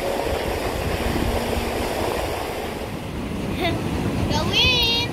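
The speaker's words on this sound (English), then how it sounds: "it's a bit windy and also it's a bit of rain coming now" Gusty wind buffets the microphone near a waterfall, a broad rushing roar that runs throughout, with voices breaking in near the end.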